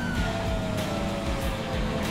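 A police car siren wails steadily through a GTA 5 driving scene, its gliding tone running over loud engine and traffic rumble for a couple of seconds.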